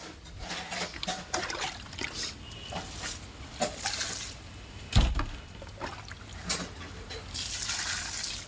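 Water poured onto garden plants makes a soft, close trickling and splashing with uneven gushes and one sharper thump midway.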